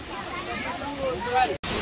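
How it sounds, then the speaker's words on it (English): Waterfall at Atri Muni cave, on a trek near Anusuya Devi temple, gives a steady rushing wash of falling water, close and continuous, with voices faintly beneath it. "beautiful waterfall"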